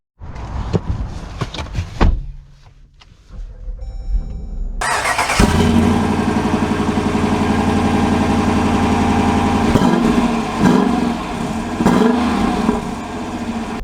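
A 2023 Dodge Durango R/T: a few clicks and a door thud, then the V8 cranks and fires with a loud burst, settling into a deep, steady idle with occasional light blips of the throttle.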